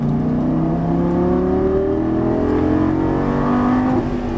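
A Lamborghini Gallardo LP550 accelerates hard on a racetrack, its engine note climbing steadily in pitch from close by and staying loud and continuous, with no talking over it.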